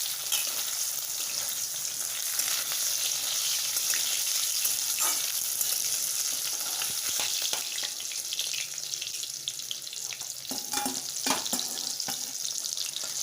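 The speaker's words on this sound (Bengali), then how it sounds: "বাকি মাছগুলো ভেজে নিই" Bhetki fish frying in hot oil for chilli fish, a steady close sizzle and crackle throughout, with a few brief clinks and scrapes near the end and no talking.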